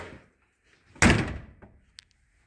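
A car door on a 1981-1990 Ford Escort with a new door seal closes in one soft, muffled thump, followed by a faint small click, with quiet room sound before and after.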